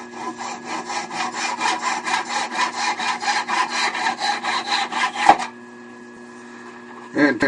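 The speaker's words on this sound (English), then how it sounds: "I will use my narrow parting tool just to start the cut. and then I will cut it off with a saw" A hand saw cuts a mahogany box free from a lathe that is switched off, with steady back-and-forth rasping strokes in an even rhythm for about five seconds, close up, then stops.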